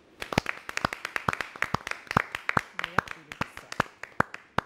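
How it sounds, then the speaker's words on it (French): Small audience at a live TV anniversary show clapping, sparse and close, with separate sharp hand claps at an irregular, fairly quick pace and a few faint voices in between. "Ça mérite quand même quelques applaudissements."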